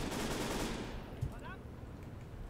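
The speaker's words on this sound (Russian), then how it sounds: "Ну, пулеметчики работают." Distant machine gun fire in the WWII strategy game Call to Arms - Gates of Hell: Ostfront crackles as a faint, steady rattle under a low battlefield rumble, with a single thump partway through.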